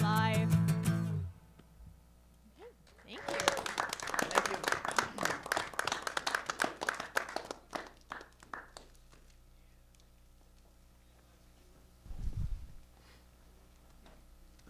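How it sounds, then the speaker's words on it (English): A small studio audience claps after a live TV music performance; the applause rises sharply, runs for about five seconds at a modest level, then fades to near silence with a brief low thump later. "Another round of applause"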